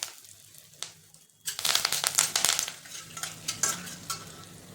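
Curry leaves dropped into hot oil for a tempering that already holds asafoetida and turmeric, bursting into a loud, crackling sizzle after a quiet start and then settling into steady frying with spattering pops.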